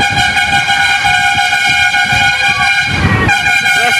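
Loud, sustained train horn blaring close by as the Shantipur train departs, steady harmonic tones holding for several seconds with a brief dip and swell near the end over rumbling rail noise.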